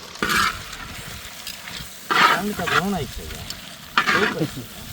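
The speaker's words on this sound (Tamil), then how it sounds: "அதே எண்ணெயில் இப்போ வெங்காயம் சேர்த்துக்க போகிறோம்" Hissy sizzling bursts rise and fade three times as about 200 grams of onions are stirred in hot oil, with a voice talking between the bursts.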